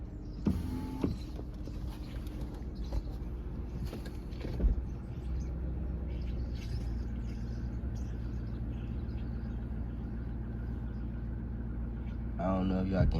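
A Dodge R/T idling with transmission trouble, a steady low engine rumble heard from inside the car, with brief whirring and clunking bursts near the start and end.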